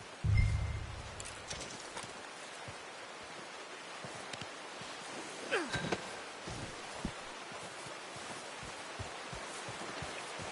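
Horse hooves clop softly in Red Dead Redemption 2, faint irregular steps over a steady rainy background with brief speech.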